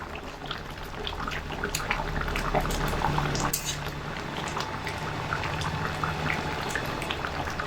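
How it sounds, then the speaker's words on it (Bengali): Eggplant malai curry with spices boils steadily in a pan, giving a continuous dense bubbling and popping at an even level throughout, with no talk. "মধ্যে সমস্ত মশলা দিয়ে 4 থেকে 5 মিনিট সময় ধরে এটাকে ফুটিয়ে নেব।"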